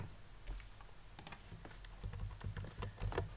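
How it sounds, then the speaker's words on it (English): Keys on a computer keyboard clatter in a quick, uneven burst of soft clicks as a command is typed, close and quiet, with no talking. "Hit the enter key"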